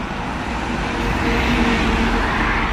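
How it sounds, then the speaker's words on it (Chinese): Busy traffic on Guangzhou Avenue, a continuous wash of cars and other road vehicles passing close by, rising slightly in loudness midway, with no voices. "这是繁忙的广州大道"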